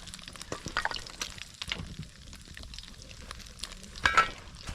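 Carrots dropped into hot oil in a large cauldron for Uzbek plov give a close crackling sizzle with uneven pops and stirring scrapes, plus a brief louder burst near the end.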